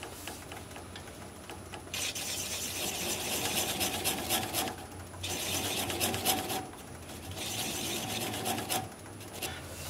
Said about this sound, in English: apply the bevel of the gouge against the bottom of the bowl and complete the cut